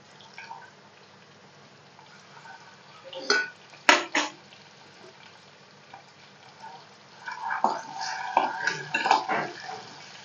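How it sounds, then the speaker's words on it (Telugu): Hard-boiled, slit eggs dropped into hot oil with a pinch of turmeric for an egg and okra curry, giving bursts of popping and clattering against the pan, louder in scattered clusters toward the end. "ఆయిల్ వేడిన తర్వాత ఇందులోకి చిటికెడు పసుపు వేసుకొని మనం ముందుగానే ఇలాగ ఘాట్లు పెట్టుకున్న ఎగ్స్ అనేవి ఇందులోకి వేసుకోవాలి"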